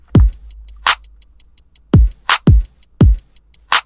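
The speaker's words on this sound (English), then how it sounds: "So a very hip-hop driven drum pattern that I made over here" A punchy hip-hop drum pattern with booming kicks, sharp claps and a steady run of crisp hi-hat ticks repeating in a laid-back groove.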